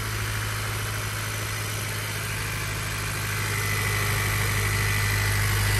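A 10th generation Honda Civic direct injection engine idling just after starting, a loud steady close drone with a ticking injector clatter, gradually settling from its high start idle.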